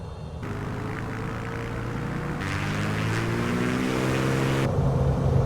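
A Beechcraft Bonanza G36 in MSFS 2024 powers up for takeoff. A steady propeller-engine drone holds, then swells louder and climbs in pitch as the run builds, with no talk over it.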